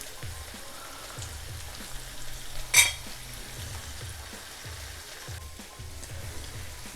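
Chicken liver fries in a pan with a steady crackling sizzle, and a few soft knocks and one brief clatter of stirring. No voices.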